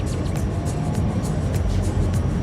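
A city bus rolls through the Bundaran Waru roundabout in Surabaya, a steady low engine and road rumble heard from close by without a break, with traffic hiss above it.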